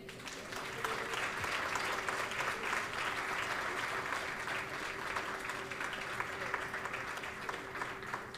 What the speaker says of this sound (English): Ladies and gentlemen, another round of applause for Mr. Neer, please.